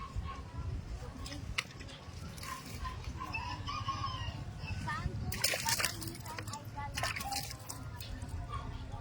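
Water sloshes and splashes as someone bathes outdoors in a rural province, partly buried under a person talking, with roosters crowing and clucking nearby.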